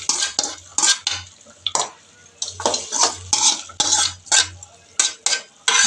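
Tomatoes go into a pan for a red cow pea gravy and are stirred, giving a run of close, sharp metal spoon scrapes and clinks against the pan in an irregular rhythm, with a faint sizzle underneath.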